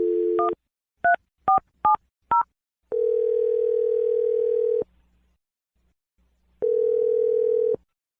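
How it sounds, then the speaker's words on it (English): Touch-tone phone dialing a number: a quick run of close, clear keypad beeps followed by long steady tones, with no voices. "Let's dial the phone number right now."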